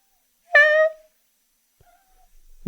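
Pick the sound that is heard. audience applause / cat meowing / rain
cat meowing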